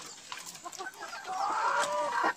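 Chickens in a small-scale poultry house give short, overlapping clucks and murmurs at close range, rising into a steadier, louder squawk toward the end.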